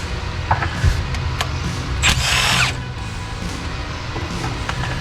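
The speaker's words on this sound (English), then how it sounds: "let me pull these 4 bolts out" An electric power tool whirs in short bursts while bolts come out of a 1981 Jeep, with brief mechanical clicks and clanks between the runs, heard up close.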